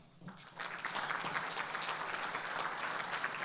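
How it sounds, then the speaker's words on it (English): Audience applause welcoming new members at a business talk on supply chains and product costing, rising quickly after a short pause and then holding as steady, fairly quiet clapping from a moderately sized group. "We'll give them a round of applause."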